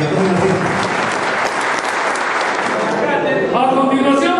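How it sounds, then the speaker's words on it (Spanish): A crowd at a school reunion celebration gives loud, sustained applause, thick continuous clapping throughout, with voices audible near the end. "un fuerte aplauso para que tomen la fiesta"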